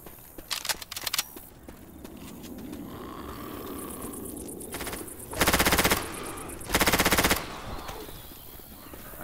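Automatic gunfire in Left 4 Dead 2 on The Parish campaign: a flurry of quick shots early on, then two loud, sustained bursts of rapid fire later, over a steady background game din.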